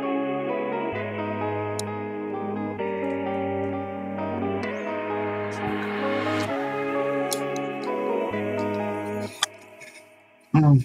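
A melodic flute-like line plays over a steady beat with sustained tones and echoey effects, ending with a few sharp clicks.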